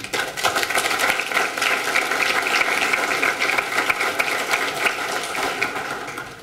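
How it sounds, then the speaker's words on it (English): Sustained applause from an audience at a World Trade event as guests from the Port Authority and New York Public Library are introduced, a dense steady patter of many hands lasting several seconds before tapering off. "they deserve a round of applause"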